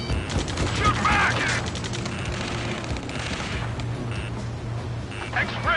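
Dense battle gunfire from the video game Ace Combat 7, a steady clatter of rifle shots and bursts running under shouted voices and radio chatter, with a low hum beneath the whole scene.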